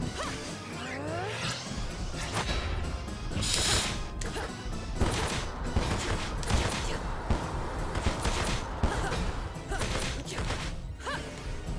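Missiles and explosions crash through a Timespinner boss fight, with dense overlapping blasts and impacts, sharp bursts and a loud rumbling stretch partway through, all under a busy game soundtrack, steady and loud throughout.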